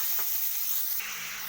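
Potatoes dropped into hot oil for a Bengali village-style desi chicken curry, giving a steady, close, moderately loud frying sizzle and hiss throughout the short moment, with no talking.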